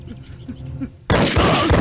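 A single loud gunshot blast in a Tamil action movie scene, preceded by a man's tense speech, with the crack and its rumble filling the last second.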